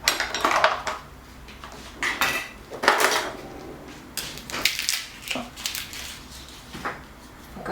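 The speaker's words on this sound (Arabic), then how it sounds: "سنة الثوم ما ننساهاش باش نحكها انا" A garlic clove is rubbed against a grater while Tunisian chicken kofta is being prepared, giving short rasping scrapes in uneven bursts with light metallic clinks, close and fairly loud.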